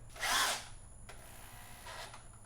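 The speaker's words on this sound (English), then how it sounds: "while I'm actually pressing on it and drilling" A power drill bores into a storage box mounted on a WeeRoll tiny camper, giving one loud, short burst of whirring, then a brief click and a second, fainter spin-up. No one speaks over it.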